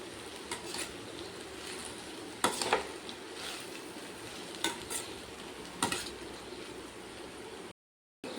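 A spoon stirs and scrapes cooked rice through tangy mango rice in a pan, with a few sharp clinks of metal against the pan over a faint, quiet sizzle.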